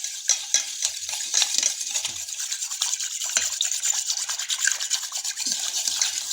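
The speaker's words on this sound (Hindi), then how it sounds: "पानी में मिक्स कर दूँगी इस तरह से" Spoon stirring sugar into water in a bowl for sweet pakora batter, a steady close scraping and swishing rub that continues without a break, no voices.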